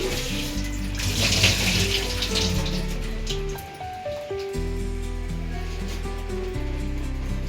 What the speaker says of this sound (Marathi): हे बघा, आपण व्यवस्थित स्वच्छ धुवून घ्यायची.